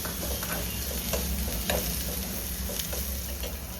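Finely chopped onions frying in oil give a steady, moderate sizzle. Occasional soft stirring taps sound over it, with no speech.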